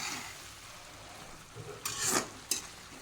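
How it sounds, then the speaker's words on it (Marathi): Gram greens being stir-fried in a pan as salt goes in: a soft sizzle with a few scraping, stirring strokes of a spoon against the pan, fairly faint and close, with no voices. "मीठ टाकून चांगल्या प्रकारे परतून घ्यायचे आहे."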